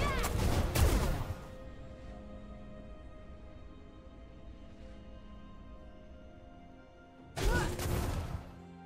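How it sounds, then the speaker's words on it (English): A turret being destroyed in League of Legends: two loud crashing impact bursts, one at the start and another near the end, with a quieter ringing, rumbling stretch between them. "Blue team's turret has been destroyed."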